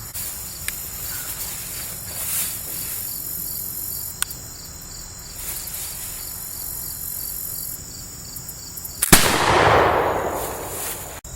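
One loud black powder shot from a .54 caliber French heavy dragoon pistol booms outdoors and fades over a second, while crickets chirp steadily all the way through.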